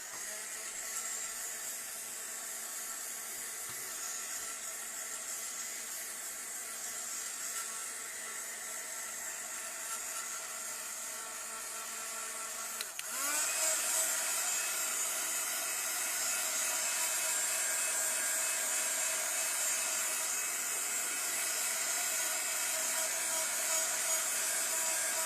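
A hair dryer blows on a freshly painted layer. It starts as a steady low-level hum, then clicks to a much louder, brighter whooshing airflow about halfway through and runs continuously to the end.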